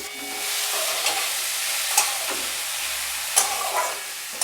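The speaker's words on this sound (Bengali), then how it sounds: "সবজিগুলো দিয়ে দিলাম, খুব সামান্য তেল।" Mixed vegetables stir-fried in a little oil for a handi kachori snack, giving a steady close sizzle with a few sharp clicks of a spatula against the pan, and no talk.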